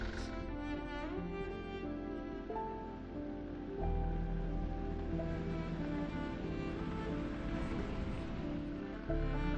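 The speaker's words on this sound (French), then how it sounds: "un petit peu de pluie" Light rain falling in thick fog on a cold mountain road near Lac des Fées in Savoie, a soft steady wash of patter and hiss with a low rumble underneath, faint and even throughout with no voices.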